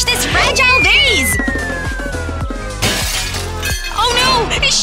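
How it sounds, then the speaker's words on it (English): A fragile glass vase shatters with a loud crash and scattering tinkle of breaking glass, followed by further crunching fragments, while people talk excitedly over it. "Oh no! It shattered!"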